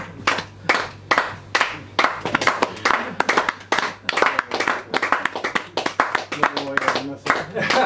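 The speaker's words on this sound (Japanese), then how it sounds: "拍手が割れんばかりの拍手ありがとうございます。" A small audience claps in a Tokyo jazz and bossa nova café bar, bursts of hand clapping coming in uneven waves close by, with someone speaking between and over them.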